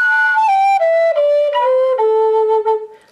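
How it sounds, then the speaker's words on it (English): Recording of a Patu bird call, a clear whistled tone that steps down through a series of held notes, loud and close with no other sounds. "because it's believed to come from the Patu bird call."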